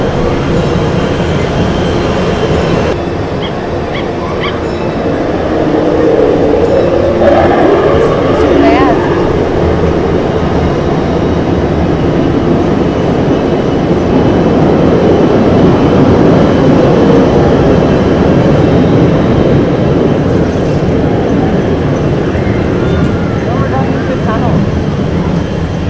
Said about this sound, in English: I'm having the time of my life here on this little train.